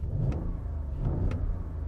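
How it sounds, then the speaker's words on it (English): A 2021 Audi SQ8 V8 in dynamic mode rumbles with a deep, loud exhaust note close by, holding a steady heavy drone with slight swells and no talking. "you can hear the exhaust got a little bit louder"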